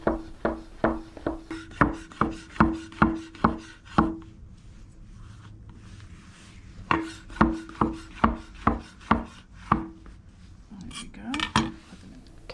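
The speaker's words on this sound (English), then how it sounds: "I'm just going to slice them up." A knife slices fresh mushrooms on a cutting board in a home kitchen, with two runs of evenly spaced sharp chops against the board, close and clear, and a short pause between them.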